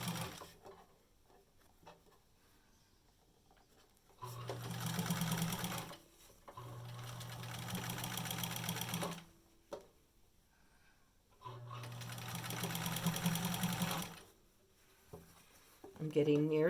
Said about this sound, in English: now I'm going to build my bias tape and sew